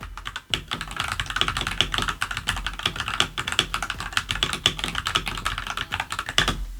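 Close-up typing on a Royal Kludge RK84 limited edition RGB wireless mechanical keyboard with clicky switches: a rapid, steady stream of crisp keystrokes, loud and alone with no voices.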